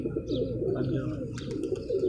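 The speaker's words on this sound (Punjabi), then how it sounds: "ਇਹ ਜਨਾਬ ਉਹ ਸਾਡੇ ਗੋਲਡਨ ਕਬੂਤਰ ਦੇ ਨਾਲ ਮਾਦੀ ਲੱਗੀ ਹੋਈ ਹੈ" Pigeons coo softly nearby in short throaty phrases while someone talks over them. The birds are a pair kept by a fancier, a golden male with its mate.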